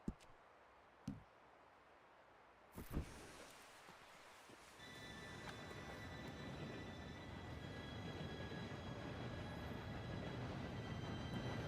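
In Red Dead Redemption 2, a train approaches with a rumble that builds steadily from faint to loud, with a thin squeal over it. A few sharp clicks come before it.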